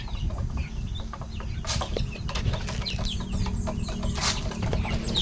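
Chickens cluck on a farm, with scattered short clucks and calls close by over a steady outdoor background.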